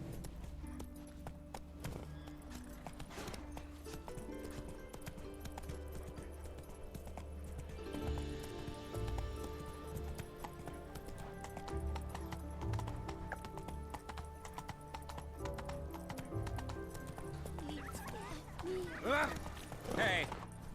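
Roach the horse in Witcher 3 moves with rhythmic clip-clopping hooves and an occasional whinny, mixed under game music and a man's speech.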